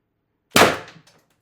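An Umarex TR50 airgun firing a 3.5 gram LLB Guardian round, one sharp loud close report with a short decaying ring and a faint trailing rattle, nothing else heard.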